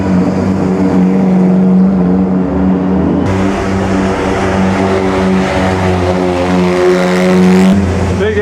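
Vintage race car at the Mille Miglia roars past close by, its engine climbing in pitch, dropping abruptly at a gear change and climbing again, loud and dominant with crowd noise beneath.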